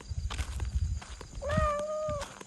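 A large tabby tomcat gives a single drawn-out meow lasting nearly a second, close and clear, after some shuffling and handling noise.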